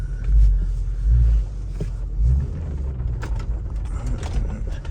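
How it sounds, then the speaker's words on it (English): Someone tries to start a Range Rover Sport SVR with a poorly running engine: heavy low rumbling surges in a few uneven pulses, then a steady rough idle-like drone with faint mechanical clicks, fairly close. "they're trying to start a car, which the engine is not good"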